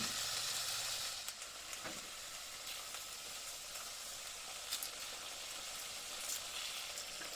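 Onions cooking in a pan give off a soft, steady sizzle and hiss that runs quietly throughout, with a few faint clicks and knocks on top and no speech.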